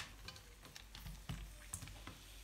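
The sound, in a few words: green courgettes frying in olive oil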